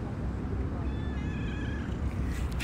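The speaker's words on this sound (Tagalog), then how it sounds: "Ito yung pusa na nakita natin." A stray pregnant cat in a park meows with thin, wavering cries over steady low outdoor background noise, moderately close and fairly faint.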